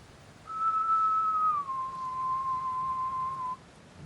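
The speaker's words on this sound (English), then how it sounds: "The whistle was instant." A single long, clear whistled tone holds steady, dips slightly lower partway through, then sustains before stopping, alone against a quiet background.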